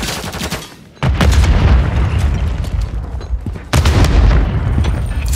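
Grenade blasts in a Call of Duty team deathmatch: two loud, close booms with rumbling decay, light gunfire crackling between them.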